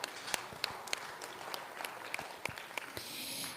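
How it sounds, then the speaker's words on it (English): An audience claps at a 4-H market goat show, with scattered hand claps and a thin wash of applause. The sound is fairly faint and comes from some distance. "if you'll give him another round of applause, I'd appreciate it"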